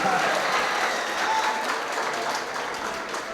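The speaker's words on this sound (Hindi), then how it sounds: "दोबारा के लिए फरमाइश है भाई, ऐसे नहीं, तालियां बजाकर थोड़ी सी गर्मी के साथ" Steady applause from the audience at a mushaira held in a function hall, a continuous wash of many hands clapping, fairly distant and moderately loud throughout.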